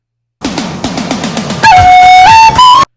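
A loud flute rendition of a song plays a quick run of short rhythmic notes, then a few sustained, bright held tones that cut off abruptly.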